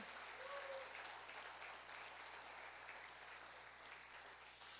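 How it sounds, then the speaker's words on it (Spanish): Church congregation clapping during a Spanish-language family worship service, an even, moderate wash of applause held throughout with a low hum beneath. "Dale un fuerte aplauso al Espíritu Santo."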